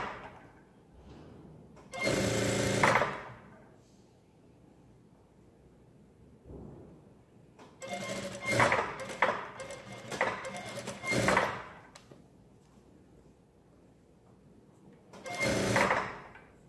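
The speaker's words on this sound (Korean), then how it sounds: "여기가 뒷판이었으면 요거 2개 먼저 봉제합니다." Sewing machine stitching two back panels of a gathered dress together, running in a few separate bursts of motor whir of several seconds each with quiet pauses between.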